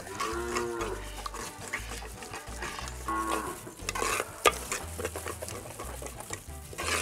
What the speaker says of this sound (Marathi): मस्त मिक्स करून घ्या.